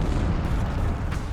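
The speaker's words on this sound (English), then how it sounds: "The bridge was destroyed in a gigantic explosion" A gigantic explosion destroys a bridge in a Napoleonic 1813 battle scene, heard as a dense, continuous low rumble with sustained booming noise throughout the short stretch.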